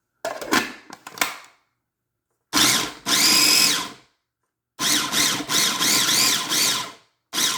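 An electric chopper whirs through garlic cloves in short motorized bursts, several loud close pulses separated by silent gaps, with a clattering start.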